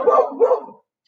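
A dog gives two close, loud barks in quick succession, the second trailing off into silence, with no speech around them.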